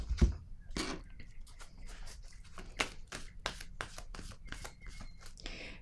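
Tarot cards are handled and shuffled softly, giving a string of faint, quick papery riffles and taps spaced irregularly through a quiet room.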